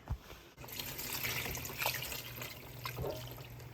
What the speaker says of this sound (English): I'm gonna go ahead and dump this and the water into sapasui